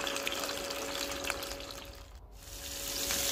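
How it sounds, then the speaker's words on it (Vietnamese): Fish pan-frying in a hot pan while preparing braised tuna, a steady close hissing sizzle filling the whole stretch without speech. "Sau đó thì bắt đầu bắt cái chảo lên, mình sẽ chiên sơ cái phần cá nha."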